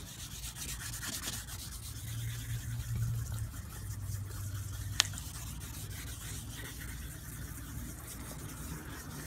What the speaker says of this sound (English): you're gonna soak your 2000 grit sandpaper and, well, begin to sand the light.